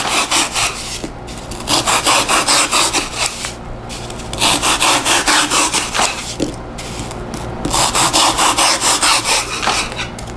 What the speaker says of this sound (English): Voila for the hacksaw.